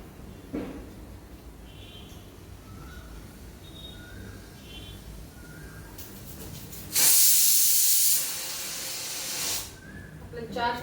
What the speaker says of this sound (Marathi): आपल्या 4 शिट्ट्या झाल्या, अजून 2 होऊ देऊया